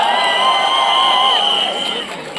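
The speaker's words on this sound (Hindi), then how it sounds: "तालियां बजाइए दोस्तों." A stage-event crowd at a film promotion for a horror-comedy, cheering and whooping loudly in a sustained, dense roar that fades slightly toward the end.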